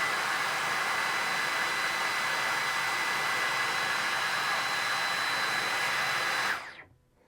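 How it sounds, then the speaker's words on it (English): A Dyson Gen5 cordless vacuum runs in boost mode, giving a loud, steady high-pitched whine with broad airflow hiss that holds constant for several seconds, then cuts off abruptly into silence. "Here comes boost on the Gen5."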